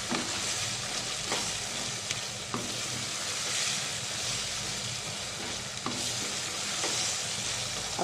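Beef keema fries with black pepper in a pan, producing a dense steady sizzle and occasional soft stirring taps, close and even throughout, with no voices.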